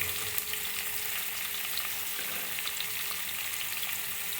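Two large sliced onions frying in oil for a catfish curry, a faint steady sizzle with light crackle throughout, no voices.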